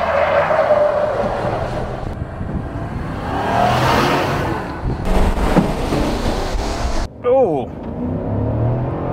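A GMC Sierra AT4X pickup with a 6.2-liter V8 and Multimatic shocks launches hard in four-wheel-drive auto with traction control off, its engine roaring loudly and building through gear shifts, with brief speech over the top.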